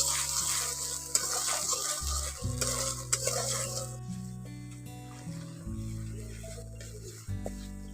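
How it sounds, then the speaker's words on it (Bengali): Ginger-garlic paste frying with chopped chilli and tomato in a pan for an egg curry, stirred steadily with a spatula, a soft sizzle and scraping under a loud layer of background music. "আদা রসুন বাটাটা এর মধ্যে দিয়ে একটু কষে নেব।"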